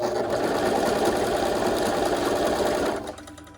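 An older Brother LS2300PRW sewing machine stitches a small zigzag, a steady, fast mechanical whirr and rattle for about three seconds before stopping abruptly.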